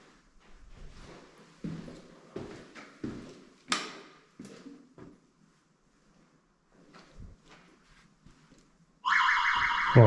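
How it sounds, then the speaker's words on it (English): A building alarm in an abandoned school starts suddenly near the end and sounds loud, harsh and continuous, after footsteps and knocks echo through the empty rooms. "that's an alarm"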